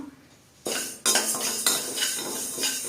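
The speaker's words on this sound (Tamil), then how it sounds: "இதை வந்து நல்லா வறுத்து எடுத்து வச்சுக்கோங்க" Black urad dal dry-roasting in a pan while a spoon stirs and scrapes against the metal, heard as sudden clattering strokes and a dry rattle of grains, close and fairly loud, without speech.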